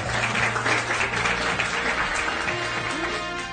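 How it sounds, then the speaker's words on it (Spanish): Studio audience applauding on a Spanish comedy TV show, steady dense clapping throughout with some background murmur, no break in the applause. "¡Un aplauso para Braulio!"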